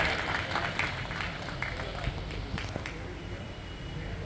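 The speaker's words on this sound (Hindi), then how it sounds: "आप सब भी उनके जज्बे के लिए ताली बजाकर उनका स्वागत करें" An audience at a grand opening event claps in a steady patter of applause with scattered voices and crowd noise around it.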